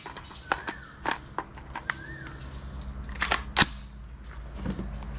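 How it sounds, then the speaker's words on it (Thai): Sharp cracks from a Colt M4 5.56 rifle at a 25-metre range, several short distant-sounding reports and clicks spaced across a few seconds over a low background hum. "จะยิงให้ดูอีกสองนัดนะครับ"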